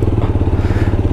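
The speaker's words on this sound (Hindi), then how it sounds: "भाई पहुंच गए हैं बाइक में और थोड़ा इसका भी टेस्ट ड्राइव ले लेते हैं" A motorcycle engine runs close by with a steady, throbbing rumble, loud and continuous, with no talk over it.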